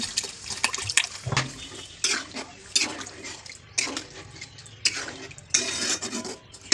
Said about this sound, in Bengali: যতক্ষণ এরকম না হচ্ছে ততক্ষণ নেড়ে যাবে নাড়তেই থাকবে